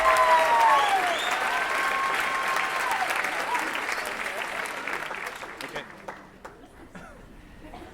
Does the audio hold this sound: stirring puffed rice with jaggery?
no